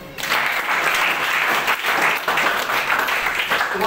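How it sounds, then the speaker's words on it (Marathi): Loud, sustained applause from an audience at a public speech gathering, dense clapping that stays steady throughout with no voices on top. "जोरदार टाळ्या."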